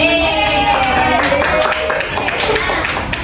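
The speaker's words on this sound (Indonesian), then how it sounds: "Oke, kita beri aplaus buat" Students in a classroom giving a round of applause during a micro-teaching lesson: scattered, moderately loud hand claps from a small group, with voices and some tonal sounds mixed underneath.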